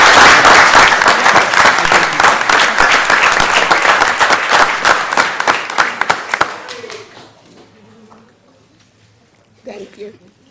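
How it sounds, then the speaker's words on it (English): An audience applauds elementary school presentations, loud and dense clapping for about six seconds that thins into scattered claps and fades, with brief talk at the end. "Let's give a round of applause to all of our elementary school presentations."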